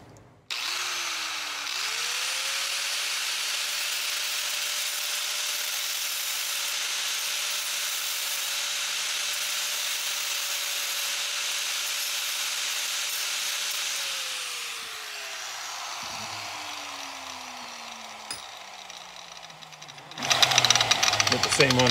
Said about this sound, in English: So I'm going to use the grinder with a grinding wheel just to take out a little bit more out of this notch here,